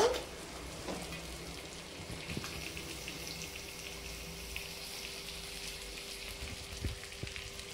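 Cooked rice goes into a pan of fried vegetables, cashews and raisins for fried rice. Oil keeps up a steady, close sizzling hiss, with a few light clinks and taps from the pan.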